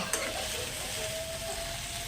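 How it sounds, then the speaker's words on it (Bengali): Raw vegetables fry in a pan with a close, continuous sizzle, with brief stirring scrapes on top, and no voices. "আমি কাঁচাতেই একটু ভেজে নিয়েছি"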